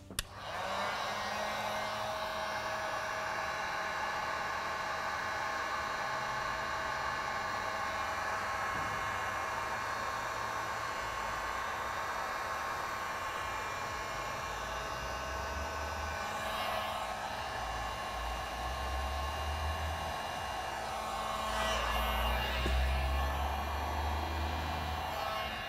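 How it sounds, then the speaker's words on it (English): A heat gun blows steadily and loudly for the whole stretch while a mini charcuterie board craft project is worked on, a continuous airy roar with no talking. "All right, now let's heat gun."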